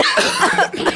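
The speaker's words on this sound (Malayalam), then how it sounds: "എനിക്ക് പെട്ടെന്നൊരു ചുമ." A single sudden cough from an adult, loud and close, with a couple of rough bursts in about a second.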